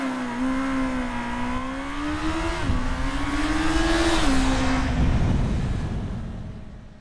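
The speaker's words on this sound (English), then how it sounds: "Bruce has a reference when he now does the 0 to 62 on the GPz." A 1985 Kawasaki GPz motorcycle accelerating hard from a standstill, its engine note climbing steadily through several gear changes as it pulls away, loud and close before fading slightly toward the end.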